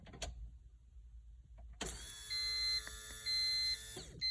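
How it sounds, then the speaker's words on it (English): A stock EG fuel pump switches on after a faint click and runs with a steady, fairly quiet electric whine and hum, close up with no talking. "This is a stock EG pump, and let's hear what it sounds like."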